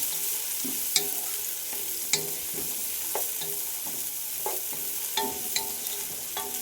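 Onions fry in hot oil for a home pressure-cooker chicken curry, a steady close sizzle with occasional clicks and scrapes of stirring, and no voices.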